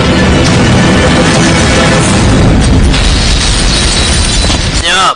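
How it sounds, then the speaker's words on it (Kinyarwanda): A wall blown up inside a compound in a dubbed action film: a loud, sustained explosive boom and rumbling roar that fills the whole stretch, dipping briefly at the very end. "basubira inyuma gato cyane babanza baturitsa urukuta ruri hano mu kigo"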